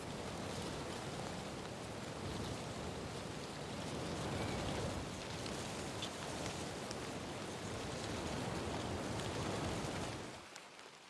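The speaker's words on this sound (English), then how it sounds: "It is pouring rain" Pouring rain at Cannon Beach on the Oregon coast makes a dense, steady hiss of drops striking surfaces, broad and even for most of its length before suddenly cutting off at the end.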